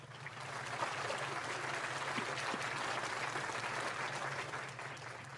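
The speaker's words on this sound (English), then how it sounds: "Round of applause for the man." A round of applause from a crowd on a live baseball fan show follows an interview with pitcher James Karinchak, sustained, even clapping lasting several seconds at moderate, somewhat distant level.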